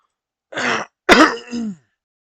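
A close, clear cough: a short throat-clearing burst followed by a sharper, raspy cough, with quiet on either side.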